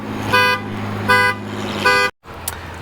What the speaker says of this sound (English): Beeps.